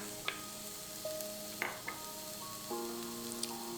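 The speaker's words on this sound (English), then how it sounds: "add in the ghee and diced onions in the Instant Pot, then saute for 3 minutes" Onions, garlic and ginger sauté in ghee inside an Instant Pot, giving a quiet steady sizzle broken by a few sharp clicks and scrapes of a utensil stirring against the pot.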